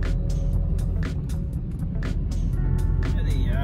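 Steady road vehicle noise from a car being driven through a Mohali street, continuous and fairly loud, with faint rattles and a brief higher whine near the end.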